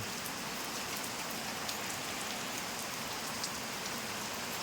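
Steady rain falls throughout, a dense even hiss of drops with faint patters on a nearby surface, no voices.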